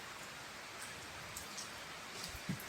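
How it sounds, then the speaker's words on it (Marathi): Heavy rain falls outdoors in a steady, even hiss of drops, fairly soft overall with a few slightly louder patters and no one speaking. "आमच्या इकडचा खूप मोठा पाऊस चालू"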